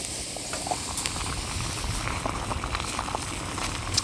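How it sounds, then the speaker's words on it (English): Water boiling steadily in a mug on a small Redcamp wood stove, a continuous bubbling roar with faint crackles and pops, close by and moderately loud, with no voices. "Okay, I can hear it boiling already."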